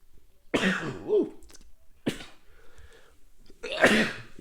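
Three loud, close sneeze-like bursts erupt alone, the first and last strongest, with a shorter explosive burst between them and quiet gaps in between.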